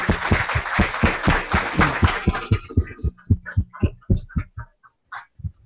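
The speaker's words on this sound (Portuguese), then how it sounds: "Um aplauso, por favor." Audience at a university R meetup clapping after a talk, a quick even patter of claps that thins out to a few scattered, fading claps, heard alone.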